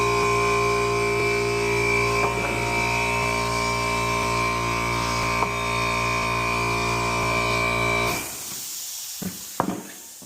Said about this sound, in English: Sorry about the noise, folks. That's my compressor.